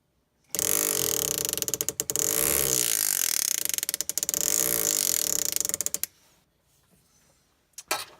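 A Foredom H.15 hammer handpiece sets a stone in a bezel, giving a loud, close, rapid mechanical buzz of tapping that runs steadily for about five seconds with brief stutters, then stops, followed by a short clatter.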